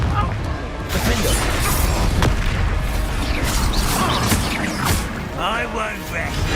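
Confringo blasting spell explosions in the video game Hogwarts Legacy, dense booming bursts and crashes layered with combat effects and voices throughout.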